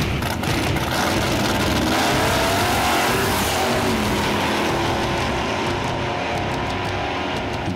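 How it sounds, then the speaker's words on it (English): Cars racing at a drag strip, a loud, continuous engine roar revving and accelerating without a break, up close with no talking. "anyone can bring their car to the strip and race their friends"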